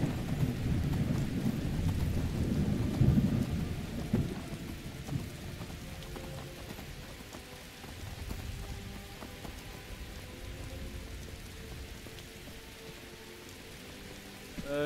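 Thunderstorm with heavy rain: a deep rolling thunder rumble swells during the first few seconds and then eases, while a constant rain hiss continues throughout, somewhat muffled as if heard from inside.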